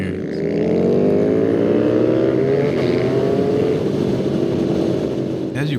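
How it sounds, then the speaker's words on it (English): A straight-piped KTM 1290 Super Duke R motorcycle roars loudly and steadily close by, its engine note climbing and holding under load throughout, with a sharp burst near the end. "you may notice just kind of how loud the KTM 1290 is when it's straight pipe"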